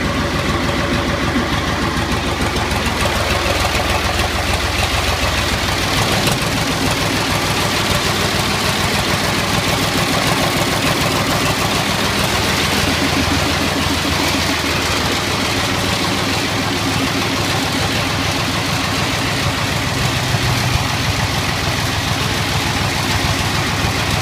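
Diesel engine of a 1984 Agri-Power 5000 (Zetor 5011) tractor running steadily nearby, a loud continuous chugging drone that holds an even idle throughout.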